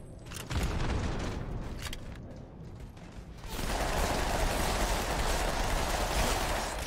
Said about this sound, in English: I have 4 grenades, I'm gonna fucking throw them all